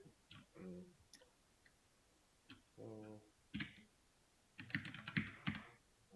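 Quiet typing on a computer keyboard while creating an HTML file, with short bursts of key clicks separated by pauses, faint and close, and a person talking in between.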